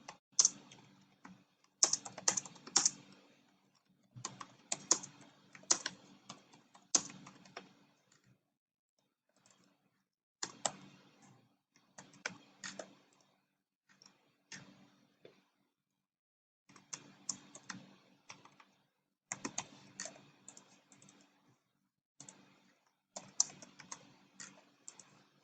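Keys clatter on a computer keyboard as a quiz question is typed, quiet close bursts of rapid clicks broken by short pauses, with no talking.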